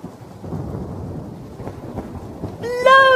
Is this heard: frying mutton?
no